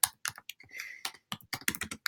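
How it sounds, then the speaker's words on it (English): Typing on a computer keyboard, heard as bursts of close, crisp key clicks in an irregular rhythm with short pauses, clear and alone. "And you can see that as I begin typing"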